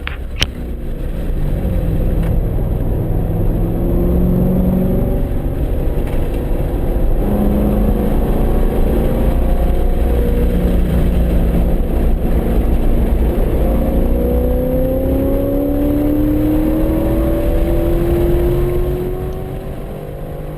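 Race car lapping the track at Virginia International Raceway (VIR), engine note steady and loud throughout with rising and falling pitch as it shifts and accelerates, no voices.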